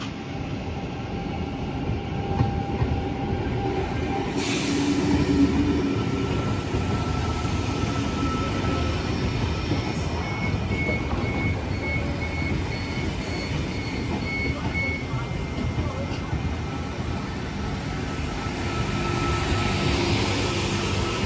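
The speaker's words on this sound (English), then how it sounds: "here is our train today, the Chopper VSET V47." A VSET V47 passenger train rumbles along the rails in a continuous, loud roar, with faint metallic wheel squeals and hums rising and fading over the passage.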